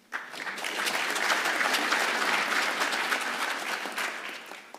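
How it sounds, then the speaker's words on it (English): An audience at an African engineering conference session applauds, dense steady clapping that rises quickly, holds for several seconds and tapers slightly at the end, with no voices heard over it. "I think a round of applause for that."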